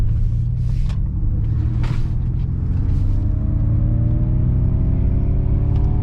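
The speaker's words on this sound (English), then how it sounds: "you get that like low rumble actually of one of the motors when you are holding the accelerator down" A 2023 Ford Mach-E GT electric motor gives a steady, loud low rumble under hard acceleration, with a thin whine that climbs in pitch as speed builds and continuous road noise around it.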